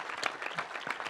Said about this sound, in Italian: Quindi un altro applauso